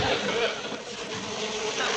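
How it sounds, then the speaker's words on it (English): A steady, dense buzz of bees fills a room in a sitcom scene, continuous and fairly loud throughout. "Listen to the buzzing of their merry little wings."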